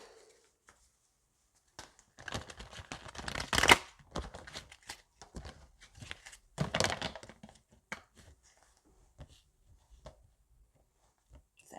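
Tarot cards being shuffled by hand, with bursts of riffling and soft slapping at close range, several shuffling sequences separated by pauses and a few light taps.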